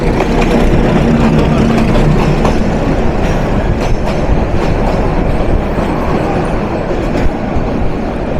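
A Turna Express passenger train runs on rails along the Chittagong route near Dhaka district at dawn, crossing a double-line section. A loud, steady rumble with rhythmic wheel clatter continues throughout, with no talk.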